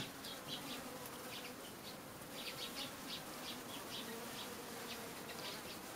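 Flies buzzing around a salty spring, a steady close hum with repeated swells of wingbeats over faint outdoor background, no voices.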